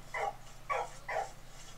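A dog in the game Valiant Hearts gives three short whimpering yips spaced about half a second apart, moderately close, each a brief tonal cry over a quiet background hum, with no talking.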